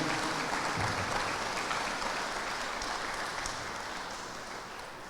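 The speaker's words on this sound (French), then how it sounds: "Je vous demande de les applaudir." An audience at a political convention in Guadeloupe applauds with sustained, dense clapping that fills the room and slowly tapers off. No one speaks over it.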